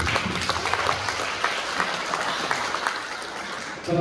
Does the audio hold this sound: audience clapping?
yes